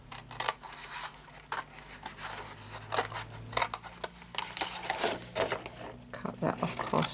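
Scissors cutting paper for a handmade Magnolia Lane gift box: a string of close, crisp snips and rustles in irregular bursts, with soft paper handling between cuts and no talking.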